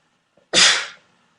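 One loud, sharp sneeze bursts out after a faint quick inhale, close to the listener and alone, fading over about half a second.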